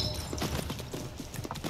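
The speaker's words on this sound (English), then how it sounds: "I prepared the horses." Steady clip-clop of horse hooves trotting at an even rhythm, several beats per second, fairly close, with no talking over it, in the video game Assassin's Creed Mirage.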